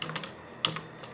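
Light, quick taps on a computer keyboard come in a loose, uneven rhythm of separate keystrokes, close and fairly soft, with nothing else over them.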